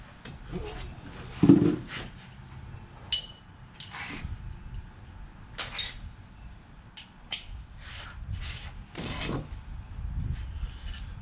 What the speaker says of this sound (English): This particular spark plug does use a 13/16 deep well socket.